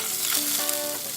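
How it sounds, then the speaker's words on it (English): Cauliflower rice frying in oil with garlic while being stirred in a pan, a steady close sizzle with soft stirring scrapes. "you're gonna stick this bag in and stir for about 5 minutes."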